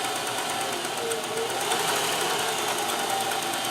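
A sewing machine fitted with a Singer fagoter attachment runs steadily at a fast, even whir with a fine mechanical chatter, close and uninterrupted.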